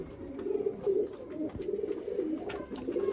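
A pair of old Sialkoti pigeons coo softly and repeatedly at close range, with low, rolling throaty calls running continuously and no talking over them.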